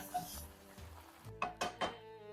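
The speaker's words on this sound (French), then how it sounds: "Ma petite louche. Pour mélanger tranquillement." Ladle stirring chicken and chorizo with onion in a pot, soft scraping and gentle sizzling followed by three distinct knocks of metal against the pot, close and fairly quiet, with no talking.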